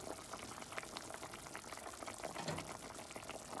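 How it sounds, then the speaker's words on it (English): A pot of corned beef and cabbage soup with potatoes simmering on the stove gives a faint, steady bubbling hiss, close and unbroken, with no talking. "It is just cooking away."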